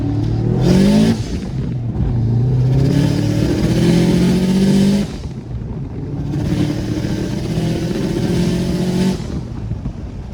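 A tuned bugeye Subaru WRX STI pulls hard in first gear. The loud engine note climbs steadily through two long rising pulls, each ending in a sharp drop as the revs fall, heard close and with no talking.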